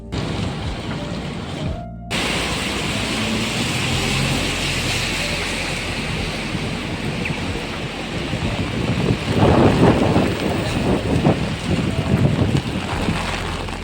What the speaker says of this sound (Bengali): বৃষ্টির সাথে এত জোরে হাওয়া দিচ্ছে